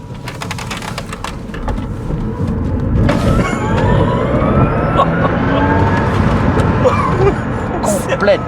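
Tesla Roadster Sport 2.5 electric car driving past, a whining, rising electric drive tone under steady road and wind noise, with voices talking over it.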